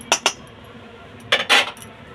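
Metal spatula or ladle scraping and clinking against a hot wok while mustard oil is spread around its sides, a few distinct close scrapes in two short bursts with quiet between.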